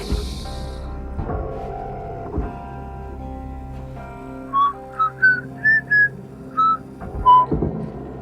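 A whistled melody plays in the space salvage game Hardspace: Shipbreaker, a run of short clear pitched notes in quick succession following low mechanical thumps and a droning hum.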